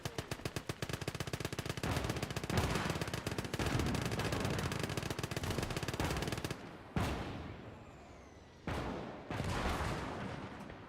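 Sustained rapid gunfire from soldiers in the Gates of Hell WWII battle, dense overlapping bursts of machine-gun and rifle fire that cut off abruptly, followed by a few heavy separated blasts with decaying rumbles.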